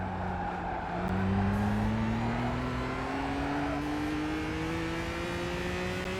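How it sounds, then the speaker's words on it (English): Simulated car engine audio from Gran Turismo 5 during a race, a steady droning hum with slowly rising pitch as the car accelerates, continuous and fairly loud throughout with no voices. "So the engine sounds are quite pathetic in this game."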